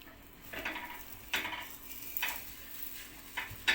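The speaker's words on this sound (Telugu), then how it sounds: "నేను ఈరోజు డాడీ గురించి దోశ వేస్తున్నాను." Dosa cooking on a hot pan at home, a boy making them for his father: soft steady sizzle with intermittent scraping and clinks of a spatula against the pan, no voices.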